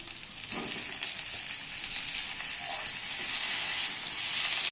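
Tomato pieces sizzle in hot oil tempering for bread masala, a steady, close, loud frying hiss throughout, with faint stirring and no talking.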